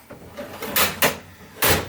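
A wooden drawer in an old cabinet sliding open, giving two or three quick scraping rubs and knocks spread over a couple of seconds, close and fairly loud, with no speech.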